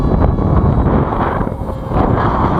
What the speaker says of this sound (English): There's more wind than there was when I flew it the other day